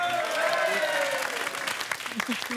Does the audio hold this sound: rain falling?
no